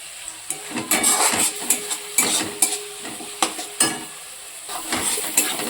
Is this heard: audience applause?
no